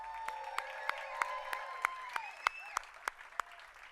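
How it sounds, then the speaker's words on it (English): Crowd applause at Tyler Perry's Hollywood Walk of Fame ceremony, with a soft outdoor patter of clapping marked by regular sharp, prominent claps over a faint sustained tone, fairly distant. "Let's give him a big round of applause, you guys."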